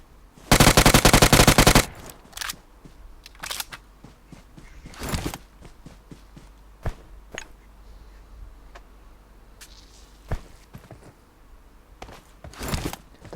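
A long, loud burst of rapid automatic UMP submachine gun fire in PUBG Mobile opens, followed by scattered single shots and clicks at irregular intervals.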